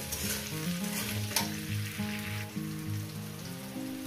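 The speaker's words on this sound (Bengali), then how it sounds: "আলুটাকে আমি মিডিয়াম গ্যাসে দিয়ে আর লতিটাকে দিয়ে ভেজে নেব" Potato and taro stolons fry over medium heat in a pan, giving a continuous close crackling sizzle like rain on a surface, with a faint tonal hum underneath and no talk.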